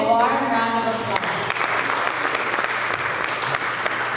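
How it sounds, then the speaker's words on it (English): Sustained applause from an audience welcoming a speaker at the MPI 2023 opening ceremony, a dense steady wash of many hands clapping. A voice is briefly heard over the first second before the clapping takes over. "Please give him a warm round of applause"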